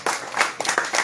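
A few separate hand claps from an audience at a religious gathering, quick and fairly faint, coming in about four uneven bursts.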